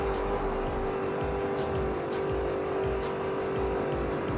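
An Alfa Montreal races around a track in Forza 4, its engine holding a steady droning note with a rhythmic pulsing texture, close and continuous throughout.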